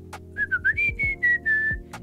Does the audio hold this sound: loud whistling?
yes